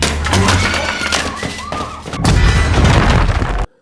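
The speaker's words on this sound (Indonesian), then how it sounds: "Suara ledakan itu pun didengar oleh Omnya Jian." A loud booming blast erupts amid chaotic noise in a scene from the series A Shop for Killers, followed by a sustained roaring rumble that cuts off abruptly.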